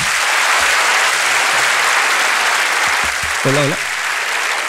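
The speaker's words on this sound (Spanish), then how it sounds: "un fuerte aplauso para ellos" A live comedy show crowd breaks into loud, thick applause that fills the whole stretch, while a voice speaks briefly over the clapping near the end.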